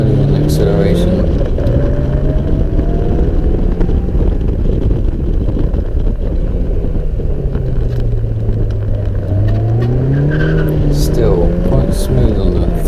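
Race car engine accelerating on the Rushmoor sprint track during a FDMC Dimanche Sprint, a loud continuous drone that rises and falls in pitch with gear changes, mixed with heavy wind buffeting and close throughout.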